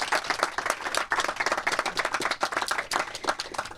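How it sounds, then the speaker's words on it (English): An audience at a film Q&A with a director and cast claps in a dense, continuous burst of applause, many hands at once, fairly close and without talk. "One round of applause for these guys"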